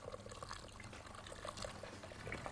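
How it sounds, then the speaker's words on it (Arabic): Hot water is poured in a restaurant kitchen while a fish dish is prepared, a faint, steady trickling stream with no talk over it. "شويه ميه سخنه عليها"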